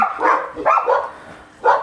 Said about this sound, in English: So there's a car driving past. That's why the dogs are going off the nuts.